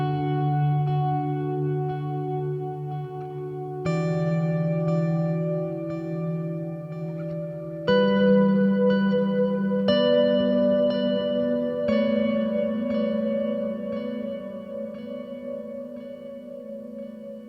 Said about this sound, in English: now we can blend in some reverb.